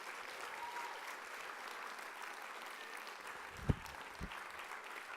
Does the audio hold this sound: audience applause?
yes